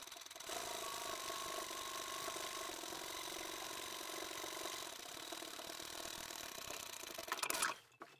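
A sewing machine stitching a flat felled seam on a tea towel tote: a steady, fast, buzzing motor hum that holds for several seconds, then stops abruptly, faint and alone.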